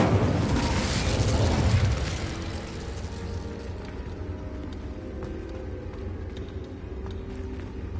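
A burst of fire from the Incendio spell in Hogwarts Legacy flares loudly at first, then settles into a lower, steady roar with faint crackling underneath.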